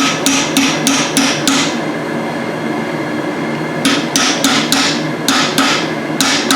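Hammer striking a chisel while forging blacksmith tongs, ringing out in two bursts of five or six sharp, loud, evenly spaced metallic blows with a short pause between them.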